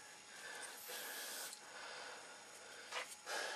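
An airbrush sprays paint onto an Airfix wildlife model kit of blue tits, a steady soft airy hiss with brief stronger bursts near the end.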